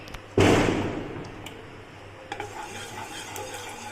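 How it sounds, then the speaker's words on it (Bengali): Whole garam masala spices dry roast in a hot kadai: a sudden burst of rattling, crackling stir that fades into a softer, continuous scratchy sizzle, close and fairly loud. "গোটা গরম মশলাগুলোকে ড্রাই রোস্ট করে নেব"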